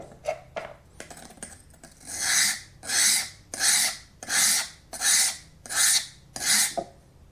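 A steel card scraper is rubbed back and forth on a 300 grit sharpening stone in seven even, rasping strokes, each with a short pause between, after a few lighter scrapes at the start.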